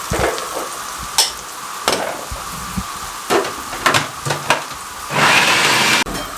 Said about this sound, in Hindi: प्याज हमारी इस तरीके से फ्राई हो रही है, हल्की हल्की।